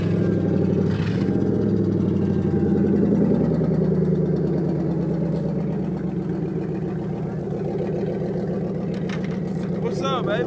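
Grand Marquis car engine idling steadily, a loud, close, continuous rumble with a rhythmic pulse, and a voice talking over it.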